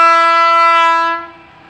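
A loud, sustained train horn blares close by for about a second, then fades away quickly, at Bhandaridah railway station in Bokaro, Jharkhand, India.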